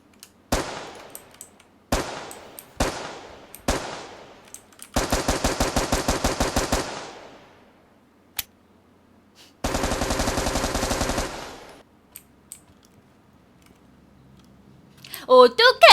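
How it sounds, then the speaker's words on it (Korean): Gunfire in the battle royale game PUBG: Battlegrounds, with four separate single shots followed by two long, rapid automatic bursts and a few lone cracks, each ringing out against near silence. "또 총알 소리인가요?"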